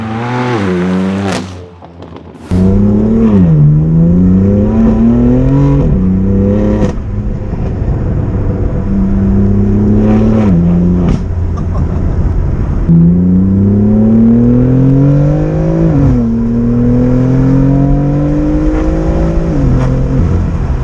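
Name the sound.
BMW M4 car driving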